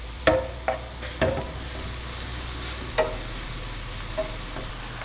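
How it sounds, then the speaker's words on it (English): Seasoned mushrooms sautéing toward golden brown in a pan, with a soft continuous sizzle under a few sharp clinks and scrapes of a utensil stirring, close and fairly quiet, no voices. "you want to saute these up to a nice golden brown color"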